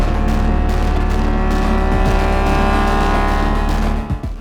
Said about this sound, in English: I'm driving the RX-8 bakkie